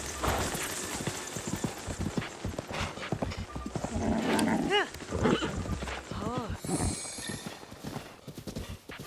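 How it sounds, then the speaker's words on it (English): Hooves clip-clop steadily as a horse moves in The Legend of Zelda: Breath of the Wild, with a few whinnies mixed in and a person talking over it. "I've achieved a horse."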